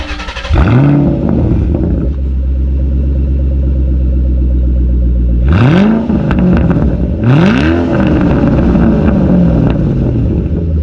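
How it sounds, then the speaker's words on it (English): A 2007 Shelby GT500 V8 starts up and idles with a deep rumble, then is revved hard twice, each blip rising sharply and falling back to a loud, close idle. "So we're going to fire it up, and we're going to let you guys hear it."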